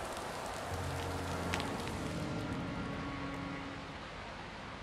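Steady rain falls in the video game INMOST, a dense continuous hiss of drops on surfaces with faint low tones underneath, no talk.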